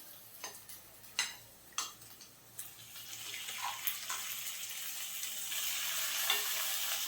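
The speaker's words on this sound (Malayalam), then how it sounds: "ചിക്കനോട് ചേർത്തിട്ട് 2-3 മിനിറ്റ് നമുക്ക് നന്നായിട്ടൊന്ന് വഴറ്റിയെടുക്കാം." Boneless chicken with onion, ginger and garlic being sautéed in a pan: a few sharp clinks and scrapes at first, then a rising, steady sizzle that stays quiet and close, with no voices.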